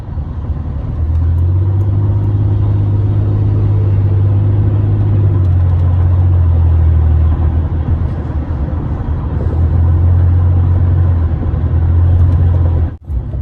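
A truck engine fitted with a cold air intake and throttle body spacer gives a deep, steady droning rumble from inside the cab, holding one tone and shifting slightly as it cruises in traffic, with a short thump near the end.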